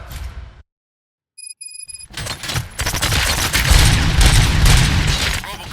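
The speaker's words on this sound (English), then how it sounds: "Gunshots? What's going on?" Gunfire in the video game RoboCop: Rogue City: after a brief silence and a few electronic beeps, a rapid burst of loud, close shots builds into sustained heavy firing with low booms underneath.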